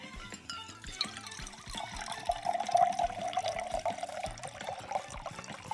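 Water poured slowly into a container, a soft continuous trickle with light splashes and gurgling that swells midway, fairly quiet and close, with no talking.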